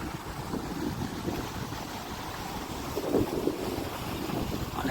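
Wind gusts blow steadily across the open water of Gadhki dam, a continuous rushing roar with a slightly stronger buffet near the middle and no voices.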